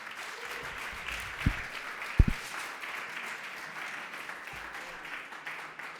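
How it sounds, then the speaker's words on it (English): An audience at a celebration of life event gives another round of applause for Nia Arts, a sustained moderate clapping with a couple of sharp louder thumps near the middle and no talk. "Let's give Nia Arts another round of applause."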